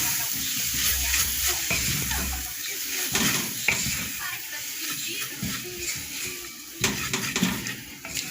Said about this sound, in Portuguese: Vou mexer.